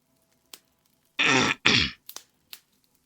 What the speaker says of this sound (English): Hopefully me clearing my throat will not be too loud.